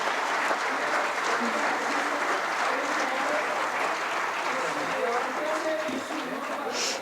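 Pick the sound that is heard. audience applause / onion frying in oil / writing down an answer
audience applause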